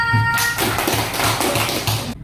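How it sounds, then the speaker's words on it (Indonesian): Children in a classroom clap for a classmate, a steady run of loud, close handclaps filling the room for about two seconds before stopping abruptly. "Tepuk tangannya untuk Naila."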